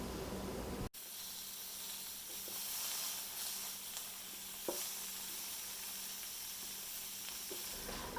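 Vegetables cooking in a pan with a steady, faint sizzling hiss and a few soft pops, heard alone.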